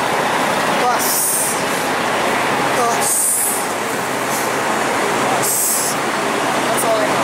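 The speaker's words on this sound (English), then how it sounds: "Subway." A New York City subway train rides along with a constant loud rumble and periodic high squeals from the wheels, with voices talking over it.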